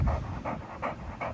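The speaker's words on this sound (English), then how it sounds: "These dogs are such lovable dogs, man." Several dogs pant close by in quick, rhythmic breathy bursts, with little else heard.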